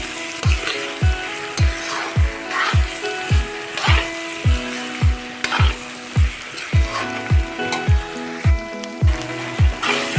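Duck curry ingredients fry in a pan, Assamese style, with a soft sizzle under a steady, evenly spaced rhythmic thumping and tonal accompaniment that dominate the foreground.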